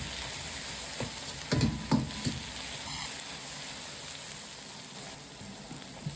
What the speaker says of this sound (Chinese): 再倒入切好的红辣椒丝，翻炒均匀。